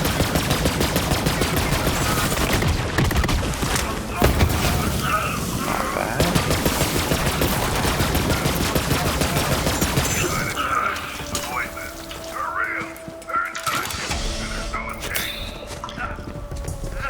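A cryogenic SMG fires in the video game Borderlands 3, dense rapid shots crackling almost nonstop for about ten seconds, then thinning into scattered pops and brief tones, with a voice speaking over it.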